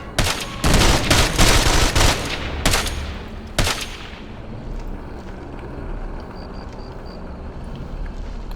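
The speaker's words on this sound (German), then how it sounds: "Ich werde beschossen!" Gunfire in the military shooter Ghost Recon Advanced Warfighter: a loud burst of rapid automatic shots and single cracks over the first four seconds, then a lingering noisy rumble with faint distant sounds.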